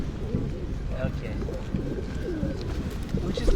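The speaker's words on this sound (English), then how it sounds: "But these are just the classic pigeon." Pigeons coo softly in Washington Square Park, their low repeated calls scattered through a busy outdoor hum, with a person talking among them.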